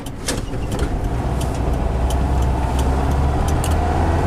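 A 1974 Volkswagen Westfalia automatic van rolls through a tight turn, its engine running at a steady, fairly loud drone with light clicks and rattles on top.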